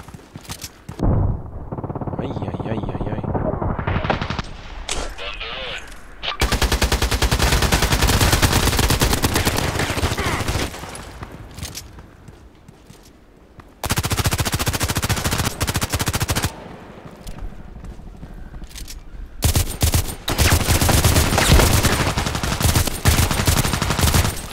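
Gunfire in the online shooter game Contract Wars: long sustained automatic bursts, loud and close, separated by brief quieter gaps with scattered single shots.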